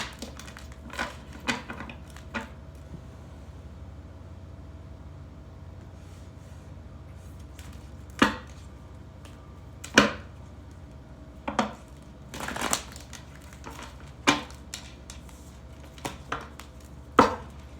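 Tarot cards shuffled in a deck, giving a run of soft, scattered crisp flutters and sharp riffle clicks spaced irregularly over a quiet room hum, with no talking.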